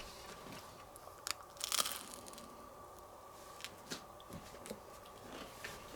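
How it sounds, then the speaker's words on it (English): Faint crunching bites of Powerade bread, a few sharp crackly bursts around the middle followed by smaller crisp crunches against quiet background. "You guys want to hear this crunch?"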